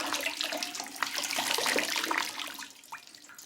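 Water poured over a bather's body into a wooden barrel bath on a Victorian farm, a short splashing gush that rises and then tapers into drips.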